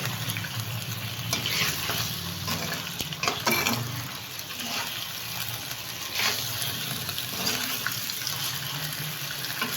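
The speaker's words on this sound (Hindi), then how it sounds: "इस तरह चमचा चलाते रहना है आपने।" Mutton karahi, Peshawari street style, being stirred with a spoon in a pan: continuous dense sizzling and bubbling with faint scraping strokes running throughout, close by and with no voices.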